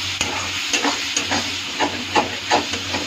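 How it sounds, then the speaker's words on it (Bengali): A spice mix frying in oil on a tawa gives a continuous close sizzle and hiss, with regular rhythmic stirring scrapes and soft taps throughout. "এদিকে দেখো মশলাটা ভাজা ভাজা হয়ে যাচ্ছে"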